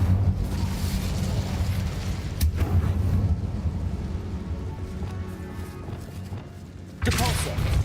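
An Incendio fire spell cast in Hogwarts Legacy gives a rumbling, thudding burst of flame amid steady game ambience, with a sharper whoosh breaking in near the end and voices talking around it.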